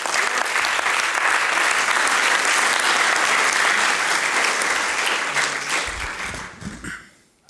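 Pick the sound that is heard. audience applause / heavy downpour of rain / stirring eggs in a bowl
audience applause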